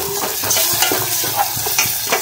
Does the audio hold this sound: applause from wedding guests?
no